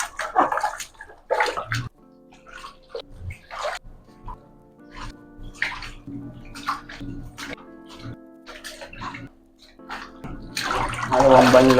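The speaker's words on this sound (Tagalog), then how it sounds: "Ipon na lang tayong tubig. Tubig Pambanlaw." Water runs into a basin being filled for rinsing laundry, a splashing gush that comes and goes in bursts and grows loud toward the end, with a low steady hum and some background sounds in between.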